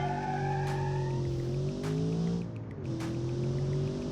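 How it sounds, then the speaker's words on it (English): A turbocharged V8 in a 1990 sedan accelerates loudly, its rising engine pitch broken by gear shifts, with tire squeal and no voices. "Ooh, V8 noise, I love it."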